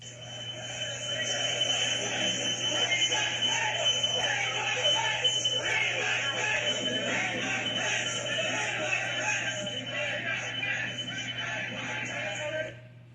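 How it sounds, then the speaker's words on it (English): A steady, continuous electronic door security alarm tone drones throughout, with a loud mob shouting underneath and a low hum beneath everything. "You can hear the security alarm from the door in the background"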